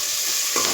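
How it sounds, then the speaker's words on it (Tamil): Tomatoes sautéing in a pan for fish gravy, a loud, bright, steady hiss with a soft stirring scrape near the end of the brief moment. "பாருங்கள், தக்காளி போட்டு நல்லா வதக்கிடுவோம்."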